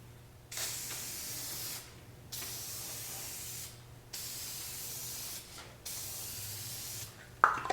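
Aerosol tint sprayed onto a car tail light in four long, even hissing bursts separated by brief pauses, close and steady, followed by a short sharp rattle at the end.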